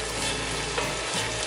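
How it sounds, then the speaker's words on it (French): Sliced onion hits a hot pot and fries for a braised beef cheek and veal kidney dish, a dense, steady, close sizzle that stays loud throughout with no voices. "Je vais mettre maintenant l'oignon émincé."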